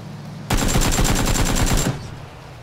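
Automatic gunfire in the video game PUBG, a rapid burst of about a dozen close, loud shots lasting over a second, then a fading echo in rain.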